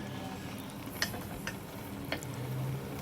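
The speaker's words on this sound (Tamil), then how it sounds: "இப்போ மிக்ஸ் பண்ணி லைட்டாக மிக்ஸ் பண்ணிவிட்டு மூடி போட்டு ஒரு 10 நிமிஷம் சிம்மில் வச்சுடுங்க" A spoon stirs brinji rice mixed with bread pieces in a cooking pot, giving a few soft, scattered scrapes and taps over a quiet, steady kitchen background.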